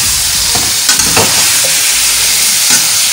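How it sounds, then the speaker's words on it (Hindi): Round tinda gourds frying and being stirred in a pan, seasoned with salt, a steady broadband sizzle with a few scraping stir strokes, close and fairly loud with no talking. "अब मेरे ये टिंडे अच्छे से फ्राई हो जाए"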